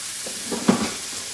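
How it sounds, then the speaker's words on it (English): Chicken searing in a hot pan before going into the oven, a steady close sizzle with a brief stir or clatter near the middle and no talk. "The whole goal with the chicken is, you can see we're just getting nice sear on it."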